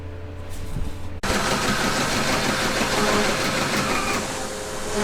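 A Sailrite sewing machine stitches a sail bag aboard a catamaran, running as a loud, steady mechanical whir that starts abruptly after a brief quieter moment and continues without pause.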